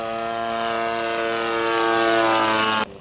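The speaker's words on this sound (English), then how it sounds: "Here's a practice flyby for an upcoming landing." Scale model aircraft on a practice flyby before landing, a close, loud, steady propeller-engine drone with a pitch that shifts as it passes, then cuts off abruptly near the end.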